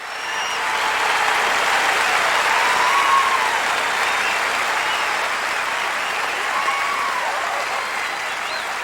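A large stadium crowd at the 1995 DCI drum corps finals bursts into sustained applause and cheering, a dense, even wash of clapping that swells and holds for several seconds, with faint whistles over it.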